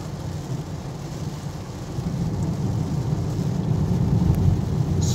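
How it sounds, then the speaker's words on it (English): Steady rain falls with a low rumble of thunder rolling beneath it, a continuous broadband wash that grows slightly louder toward the end. "Raining."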